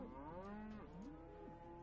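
Cattle moo in the business simulation game Capitalism Lab, with one long, clear, drawn-out low call rising and falling, followed by a shorter second moo, alone and up close.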